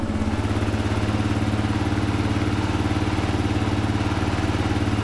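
A Kawasaki KLR650 motorcycle engine running on choke, a steady, loud, close idle with an even rapid thumping pulse that holds for the whole stretch with no talk over it.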